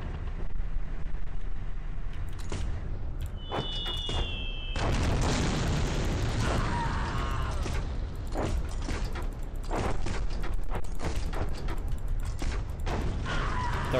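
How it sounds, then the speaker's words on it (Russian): Air strike explosions boom in the Hills of Steel tank game, a dense run of loud blasts and mechanical clatter with a rising whistle near the start, continuous and close. "Авиаудар также"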